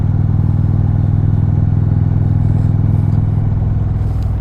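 A 2021 Indian Roadmaster motorcycle cruising along, its engine holding a steady, loud low rumble close to the microphone as the rider shifts up through the gears.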